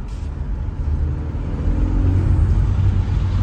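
A 2023 BMW X1 compact SUV in sport mode with turbo overboost drones steadily with a low engine rumble that swells slightly as it accelerates, heard from inside the cabin with no talking.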